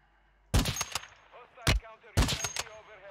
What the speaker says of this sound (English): oh, I'm getting sniped at from behind, boys.